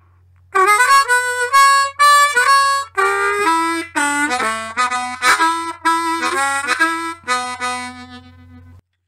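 A harmonica plays a bluesy phrase from a song with bent, wailing notes and short chords, loud and close, over a faint low hum, then stops.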